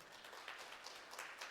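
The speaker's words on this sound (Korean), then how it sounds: "박수 부탁드리겠습니다" Brief applause from a congregation at a Sunday church service, a soft, distant patter of many hands clapping evenly for a moment.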